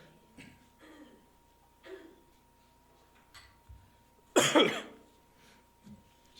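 A single sharp cough bursts out near the end, loud and close, during an overnight church sermon, amid a quiet room with soft scattered murmurs and a faint steady hum.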